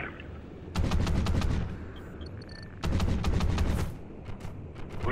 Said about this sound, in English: Oh jeez, taking fire here.